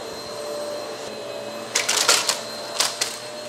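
A Hoover MAXLife bagless upright vacuum cleaner, model UH75100, hums steadily with a tonal whine, then sucks up large debris in several brief rattling bursts near the end.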